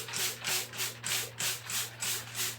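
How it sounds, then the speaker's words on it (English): A rag is scrubbed back and forth across a shower surface in steady rhythmic strokes, about two per second, close and fairly loud over a constant low hum. "bring a rag and scrub it down. It's really just wiping it down."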